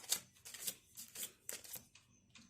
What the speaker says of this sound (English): Okay. Shuffling the cards.